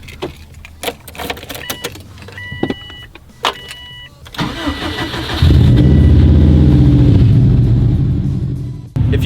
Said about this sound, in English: We're gonna get the cars all warmed up.